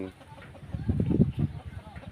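Free-range village chickens cluck in a short, loose burst of overlapping calls, close and moderately loud, with a little background voice mixed in.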